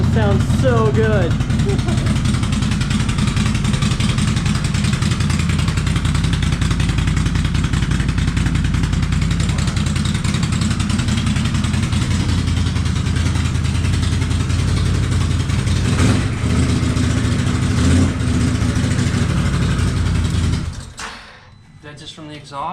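Close up, a 2019 Ski-Doo Renegade XMR snowmobile fitted with an RJWC full dual Krossflow exhaust idles loudly and steadily for about twenty seconds before cutting off abruptly, with voices briefly heard over the engine.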